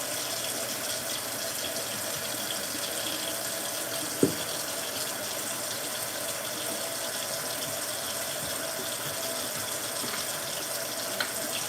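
Hot water pours steadily from a tap during household cleaning, a constant close rushing gush that holds unchanged throughout, broken only by a single faint knock.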